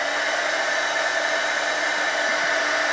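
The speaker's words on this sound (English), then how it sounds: "taking my heat gun and I'm going to heat this" A heat gun blows hot air onto a foam block, giving a loud, steady, unbroken rush of airflow that holds constant for the whole stretch with no speech over it.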